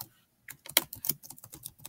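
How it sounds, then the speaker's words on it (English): Typing on a computer keyboard at close range, a quick irregular burst of sharp clicking keystrokes that starts after a brief silence and carries on alone. "So I'm going to type in"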